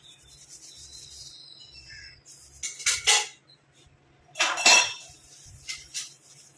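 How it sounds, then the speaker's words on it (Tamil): Henna and avarai hair dye paste being rubbed onto a hand, giving soft, close scraping and smearing strokes in uneven bursts with quiet gaps between. "நான் கையில் கொஞ்சம் தேய்ச்சி காட்டுறேன் பாருங்கள்"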